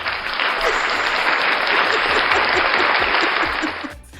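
Loud, dense applause from a talk-show audience, a thick continuous wash of clapping that holds steady and then cuts off sharply at the end.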